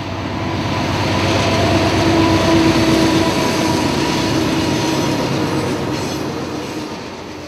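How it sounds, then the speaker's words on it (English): Northbound intermodal freight Q142 rolls past close by in a loud, sustained rumble of wheels and rail noise, with a faint squeal of flanges, swelling and then easing slightly as the cars keep passing. "The opposing train is northbound Q142 coming up from Jacksonville"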